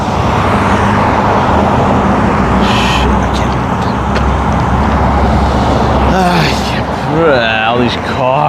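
Steady, loud road traffic passes close by on a street in Freehold, New Jersey, with cars rushing past in a continuous roar and a voice talking over it near the end.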